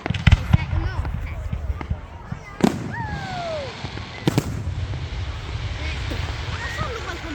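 Bonfire Night fireworks in Elgin pop and crackle in the distance, with sharp bangs and a whistling rise, under ongoing crowd chatter.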